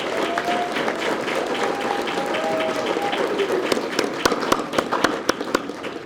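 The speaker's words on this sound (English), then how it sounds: "Let's first give all of the awardees a round of applause for their contributions" Applause from an audience at a college and career academy awards ceremony honoring awardees, a steady wash of clapping with a faint whistle early on and a few louder, sharper nearby claps toward the end.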